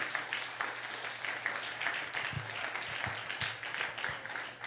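A church congregation applauds steadily for several seconds, a dense wash of clapping filling the room with a few louder claps standing out near the end.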